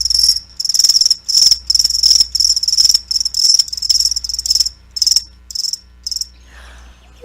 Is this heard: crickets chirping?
yes